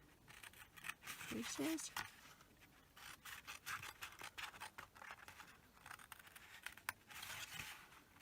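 Scissors snip through the bottom of a cardboard milk carton at the creases, giving soft repeated rubbing cuts under steady talk nearby, part of a Halloween witch's house craft.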